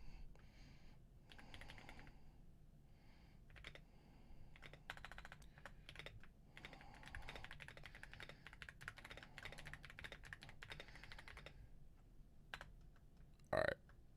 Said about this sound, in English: Got to type the poll.